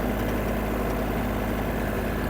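A Yanmar AF-22 mini tractor's diesel engine runs steadily up close while it is shifted through its gears, a continuous low mechanical drone with vibration and no speech.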